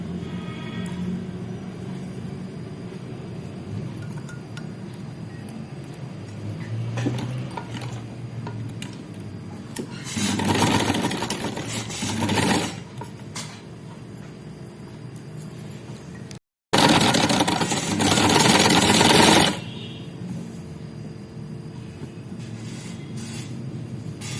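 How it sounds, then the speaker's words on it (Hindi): A sewing machine stitching a kameez side pocket runs in two short bursts of whirring, each a few seconds long, separated by quiet handling noises and a brief pause. "और अब सिलाई शुरू करते हैं"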